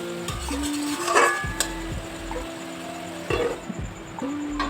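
Boal fish curry with ginger is sautéed in a pan on a gas flame. Utensil scrapes and clinks repeat over a soft sizzle, up close and without voices.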